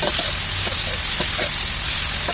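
Vegetables are stir-fried in a pan, giving a continuous sizzling hiss broken by periodic clacks and scrapes of stirring.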